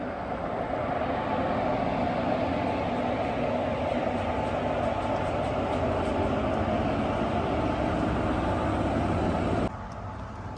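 Guruvayur train with engine 22718 running, a loud continuous rumble and rolling rattle heard close up, holding steady for about ten seconds before suddenly dropping quieter near the end.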